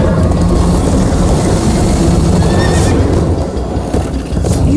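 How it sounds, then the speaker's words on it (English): A horse in the Minecraft Story Mode video game whinnies loudly over a continuous rush of galloping hooves, with no talk. "First time on a horse here."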